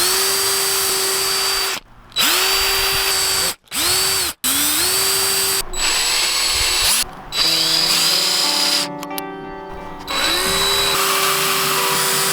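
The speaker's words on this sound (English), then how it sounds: "So I'm going to pre-drill 2 holes." Cordless drill pre-drilling screw holes into a 2x4 board for a concrete sidewalk form, several loud close whining bursts that rise in pitch as the motor spins up, separated by short pauses, with no talk.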